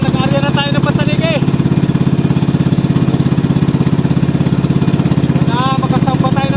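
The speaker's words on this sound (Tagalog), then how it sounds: "Ay, magpaandar ko ng makina. Sobrang tigas paandar rin makina." Fishing boat engine running at sea: a loud, steady, rapid thumping putter, very close and continuous throughout, with a voice talking briefly over it.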